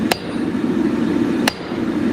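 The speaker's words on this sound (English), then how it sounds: "I'm going to drive the handle further into the head." Two crisp hammer blows driving a wooden handle deeper into a cheap hammer head, about a second and a half apart, each a sharp close crack over a steady background hum.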